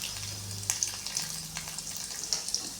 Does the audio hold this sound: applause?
no